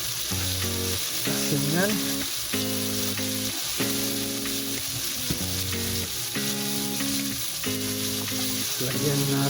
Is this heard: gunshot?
no